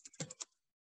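A handful of quick computer keyboard keystrokes click close by in a brief, uneven burst lasting under half a second.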